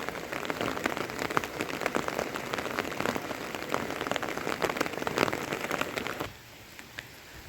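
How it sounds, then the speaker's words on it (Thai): Rain patters steadily on a rice paddy during transplanting, with dense, crackling drops, then abruptly softens to a light drizzle near the end. "เปิดภาพมากกะเจอฝนตกเลยหน่อย ฝนตก"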